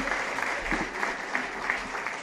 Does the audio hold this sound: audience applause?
yes